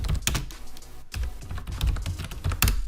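Keys clatter on a computer keyboard as a short command is typed, quick irregular taps with a few heavier strokes, close and clear with no talking.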